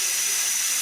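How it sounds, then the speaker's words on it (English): Steam hisses from an electric pressure cooker on quick release after cooking rigatoni with artichokes and sundried tomatoes, a steady, loud, broadband rush that stays constant and close for under a second. "I'm doing a quick release on the pot"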